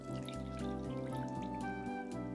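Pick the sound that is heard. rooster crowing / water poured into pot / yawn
water poured into pot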